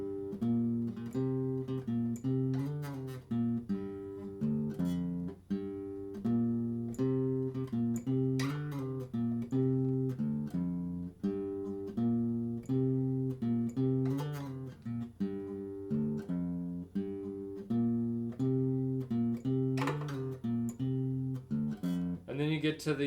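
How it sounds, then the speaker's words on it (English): An electric guitar picks out a song's riff in steady repeated phrases, with clear sustained notes and sharp pick attacks. It plays close and alone throughout, with no voices. "you play it back to back, so it would sound like this"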